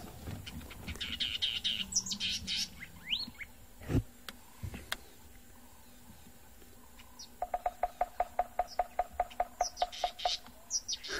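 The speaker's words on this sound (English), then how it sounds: "there's a southern black tit calling" A southern black tit calls in the African bush: a few high, chirpy notes near the start, then a quick run of evenly spaced sharp calls toward the end, fairly close against quiet outdoor background.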